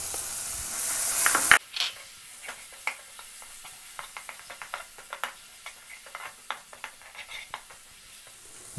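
Chili and turmeric paste for a kudampuli fish curry sizzles hot in the pan with ginger and garlic, then quiets as a spoon stirs and scrapes in repeated sharp taps and clicks.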